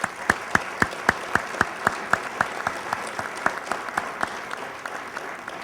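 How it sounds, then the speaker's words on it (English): Applause for retiring township employees at a State of the Town address: a thin, moderately distant scattering of claps, sharp separate strokes at an even, steady pace that slowly softens over several seconds. "Let's give them a round of applause."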